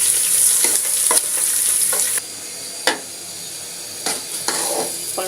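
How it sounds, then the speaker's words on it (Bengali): Polao rice being stirred and fried in a pan for ilish polao, with steady sizzling broken by repeated scraping strokes of a spoon, close and fairly loud, no talking. "পোলাওয়ের চালগুলো নেড়ে দিচ্ছি।"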